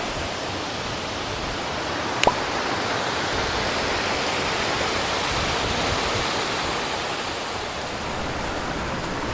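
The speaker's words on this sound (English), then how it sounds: "I'd say this is the top of the waterfall." A waterfall in Costa Rica, heard from its top, roars as a loud, unbroken broadband rush with a single brief click partway through.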